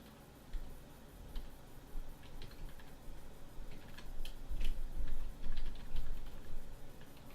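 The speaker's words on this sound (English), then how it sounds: "it's as simple as typing in an email address here" Light, quick keystrokes on a computer keyboard as an email address is typed into Microsoft Outlook 2010, soft irregular taps at close range over a faint room hum.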